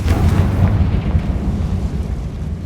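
A Confringo spell explosion in Hogwarts Legacy, a loud, deep fiery blast that opens at full force and rumbles on for a couple of seconds, slowly fading.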